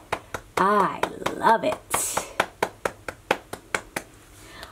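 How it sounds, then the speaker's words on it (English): Hands clap in a steady rhythm of about a dozen sharp, close claps following a spoken cheer, continuing alone in an even beat after the voice stops. "Let's clap for Anne's alphabet."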